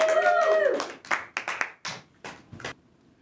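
Scattered hand claps from a small karaoke crowd greeting a newcomer who sang an original song, following a short burst of music; the claps are sparse and uneven rather than a full ovation.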